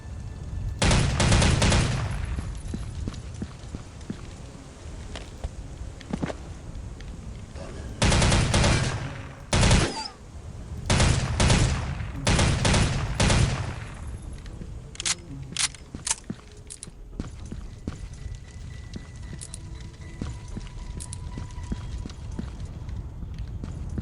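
Bursts of AK rifle fire in the Soldier of Fortune 2 video game, loud automatic volleys in several separated clusters, with quieter single shots and footsteps between them.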